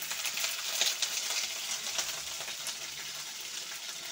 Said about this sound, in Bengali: আমি এবার এই ঢেঁড়সগুলি আমি দিয়ে দিচ্ছি ভাজতে।